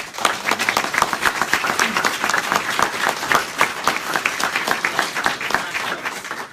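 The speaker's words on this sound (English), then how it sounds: "let's give you a round of applause" A room full of people gives sustained, dense applause at a talk on running for office, the clapping loud and even from start to finish.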